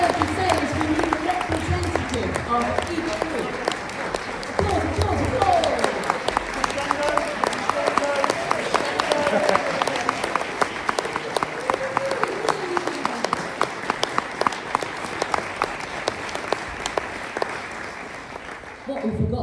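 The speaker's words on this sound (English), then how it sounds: "So everyone please, massive round of applause to the Campion Ensemble." A large audience at a school music feedback session gives the Campion Ensemble a long, dense round of applause, steady and loud throughout, with voices mixed in under the clapping.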